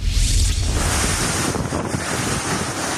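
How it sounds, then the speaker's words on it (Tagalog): Fierce wind from Typhoon Julian in Sabtang, Batanes roars continuously with heavy buffeting on the microphone, a loud dense wash of gusts and driving rain, no voices. "Malakas ang hangin at ulan sa Sabtang Batanes dahil sa bagyong Julian."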